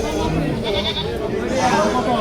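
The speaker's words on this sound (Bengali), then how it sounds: "সামনে হচ্ছে পাটি ছাগল এবং বেড়া ছাগল রয়েছে এখানে" Goats bleat at a busy livestock market in Bangladesh, a nasal cry or two rising over the constant crowd chatter and voices nearby.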